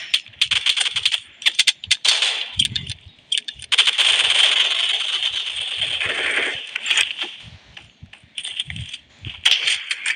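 Gunfire in the mobile battle royale game PUBG Mobile crackles in rapid bursts and one sustained automatic volley, with sharp clicks scattered between the shots.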